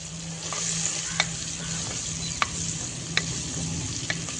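Carrots hit a hot pan over a high gas flame for cabbage sambharo, giving a steady close sizzle and frying hiss with a few sharp clicks of a stirring utensil against the pan.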